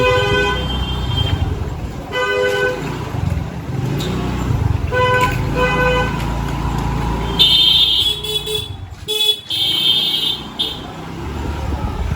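Car moving through busy road traffic during an Eid al-Adha outing, with steady engine and road rumble and several short horn toots, including a clearer honking burst near the end.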